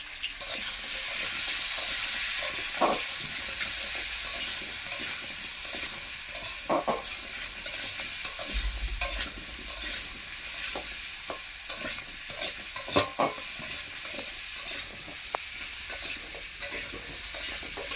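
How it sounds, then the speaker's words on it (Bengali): Papaya and potato pieces fry together with turmeric in a kadai, giving a steady, close sizzle throughout, broken by repeated scraping and clacking stir strokes; no voices. "এবারে তো আমি কেটে টুকরো করা পেঁপা আলুর সঙ্গে একসঙ্গে ভেজে নেব।"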